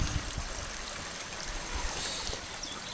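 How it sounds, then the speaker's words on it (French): A small river about 60 cm wide runs through autumn woodland with beaver dams, giving a steady, close rush and trickle of flowing water with no talk over it. "On continue de suivre notre petite rivière."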